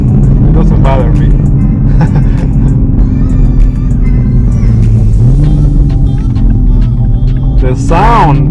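A 2021 Toyota Supra A91 MK5 engine rumbles steadily with rising revs, loud and close, while a person talks over it.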